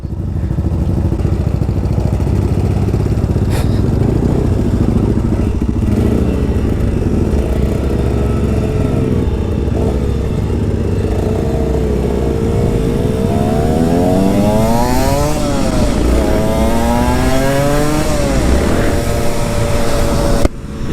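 An Aprilia SX-125 two-stroke supermoto engine drones steadily at close range, then its pitch climbs and falls through several rev sweeps toward the end.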